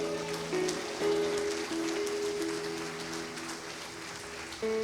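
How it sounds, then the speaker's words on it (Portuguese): A congregation claps in a steady patter of applause beneath sustained organ or keyboard chords that shift pitch. "Pode aplaudir a Jesus"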